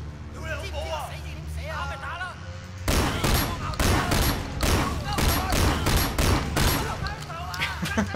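Gunfire rattles through a shootout in the Sleeping Dogs video game, with steady rapid bursts and heavy thuds after a calmer opening, while players talk over the action.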